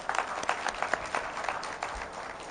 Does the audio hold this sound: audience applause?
yes